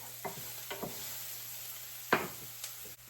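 Onions fry quietly in a pan, a faint steady sizzle broken by a few soft utensil knocks and scrapes, with no talking.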